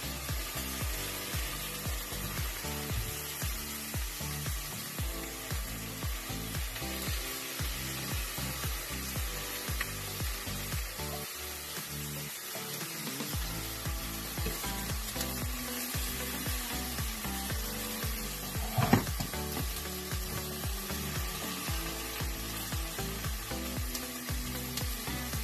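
A fresh homemade tortilla cooks on a hot griddle, giving a steady, close sizzle and crackle that runs unbroken throughout, with a brief louder knock partway through and no talking.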